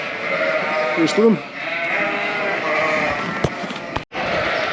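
Sheep bleat during drafting on a farm, a few close bleats rising over a steady flock murmur while a person speaks, with a couple of sharp knocks near the end.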